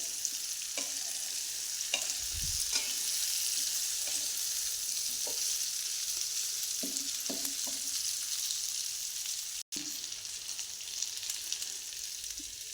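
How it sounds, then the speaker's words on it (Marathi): Stuffed okra frying over low heat in a pan, gently turned with a spatula: continuous bright sizzle broken by soft scraping strokes every second or two, with a brief dropout near the end and no talk. "असे हळूहळू अशी हलवायची कारण मसाला निघला नाही पाहिजे म्हणून हळूहळू हलवायची"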